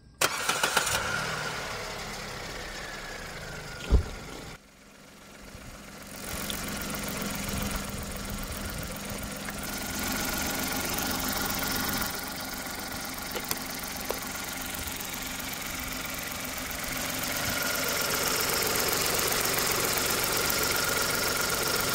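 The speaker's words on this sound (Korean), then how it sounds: "한번 시동을 한번 걸어볼게요." A car engine starts after starter motor repair work and a fresh coat of silicone, catching after a brief crank and then settling into a steady, fairly quiet idle that runs on alone for about twenty seconds.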